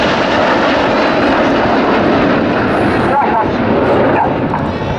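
Red Arrows jets roar overhead during an air display, a loud, sustained broadband engine rumble filling the whole stretch, with a voice talking over it.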